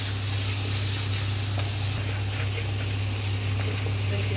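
Ginger-garlic paste and spices fry in hot oil for mutton shahi korma, giving a steady, close, loud sizzle that holds without pause and without voices.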